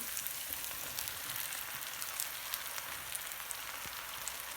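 Mushrooms sizzling in a pan after garlic for a vegan potato and tomato roast, a faint even crackle and hiss like light rain, steady throughout with no voices.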